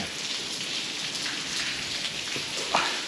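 Rain pouring outdoors in the Philippines, a steady close hiss of drops hitting surfaces with a few sharper splashes near the end and no talk.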